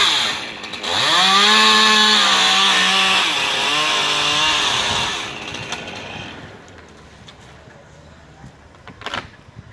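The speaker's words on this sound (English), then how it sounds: "He's swinging a chainsaw above his head." A chainsaw roars up to full throttle nearby, runs loudly for a few seconds, then winds down and fades to quieter background noise.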